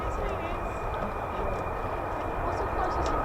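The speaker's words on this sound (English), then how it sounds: "Sounds like F-35." An F-35 fighter jet passes overhead near RAF Lakenheath, a steady, loud broadband roar that holds for the whole moment while people talk over it.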